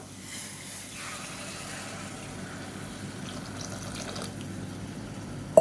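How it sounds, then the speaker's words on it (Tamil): Heated water poured into a pot of fried mutton while making Madurai-style mutton biryani, a soft steady pouring and splashing close by, ending in a brief clunk. "இப்போ இதில் வந்து நம்ம இந்த சூடு பண்ண தண்ணியை சேர்த்துக்கலாம்."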